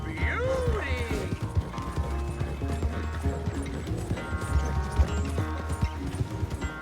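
Horse hooves clip-clopping at a steady gait with a high whinny early on, from the video game Red Dead Redemption 2, mixed with game music and other sounds throughout.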